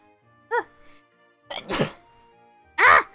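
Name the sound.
sneeze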